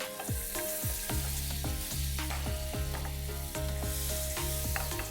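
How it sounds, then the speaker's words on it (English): A generous dollop of butter hisses and sizzles in a hot pan while garlic butter is made for an egg street-food dish. The sizzle holds steady under a repeating mechanical rattle, with no talking. "Let's add in a nice, generous dollop of butter."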